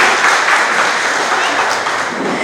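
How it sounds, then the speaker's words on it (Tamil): A crowd at a car dealership's launch event for a new Suzuki Swift claps loudly in a dense, continuous wash of applause. "can we have a round of applause"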